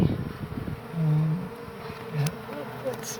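Bees buzzing close by around a hive in an Essendon chimney during a relocation, with low droning hums that swell and fade, a few loud passes near the listener, and a voice heard briefly at the start.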